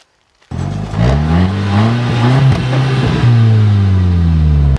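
A 256-horsepower sporty car launches hard from a standstill after a brief silence, its engine revving loud and close with rising harmonics that climb and shift through gears over several seconds.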